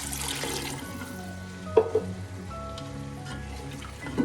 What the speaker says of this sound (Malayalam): ബാക്കി വെള്ളം കൂടെ ഒഴിക്കും.